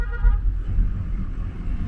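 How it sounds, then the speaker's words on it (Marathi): Busy road traffic near Badrinath, a constant low rumble of passing vehicles with short car horn toots breaking through, moderately close, with no one talking. "तर इकडे ट्रॅफिक खूप असतं"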